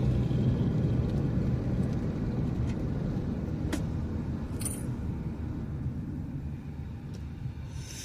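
Car cruising along Interstate 75 in Tampa, Florida, giving a steady low road rumble and tire drone throughout, with a couple of faint brief clicks and a light hiss passing near the end.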